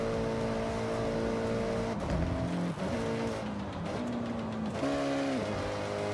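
Car engine and gearbox from Forza Horizon 6 heard from the cockpit view, a loud steady engine drone with rising and falling pitch as gears shift, several sharp shift dips along the way, no talking.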